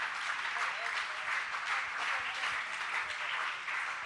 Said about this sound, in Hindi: आपकी तालियां इनके सम्मान के अवदान के रूप निरंतर बजती रहें।